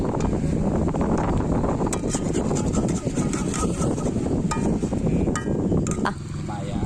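Strong wind buffets the microphone outdoors while snail rica is stirred in a pan over a fire, a steady loud rumble throughout with some clatter on top.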